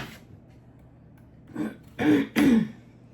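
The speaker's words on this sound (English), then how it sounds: "I cannot seem to clear my throat." A person clears their throat several times in quick succession, close and loud, ending in two strong rasping efforts.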